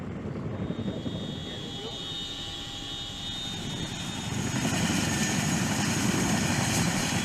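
Boeing CH-47 Chinook helicopter holding a steady low-altitude hover over the sea, a continuous loud rotor and engine roar that swells slightly toward the end, with a voice talking over it.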